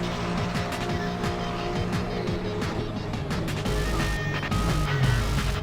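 Race cars in an online Assetto Corsa race, engines droning and shifting continuously as a pack runs closely together, with tires squealing through a corner near the end and a faint voice underneath.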